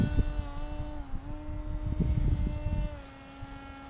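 A small electric motor on an RC foam flying wing in flight whines at a steady high pitch, dipping briefly, with gusty wind buffeting underneath.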